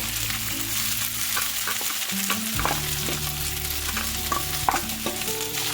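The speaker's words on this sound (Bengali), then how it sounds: "এবার আলু আর বাঁধাকপিটা আমি এই তেলের মধ্যে দিয়ে দিচ্ছি। দিয়ে ভালোভাবে বাঁধাকপি আলুটা ভেজে নেব।" Potato and cabbage fry in hot oil in a pan, giving a dense, loud, continuous sizzle with occasional stirring scrapes, close up and with no voices.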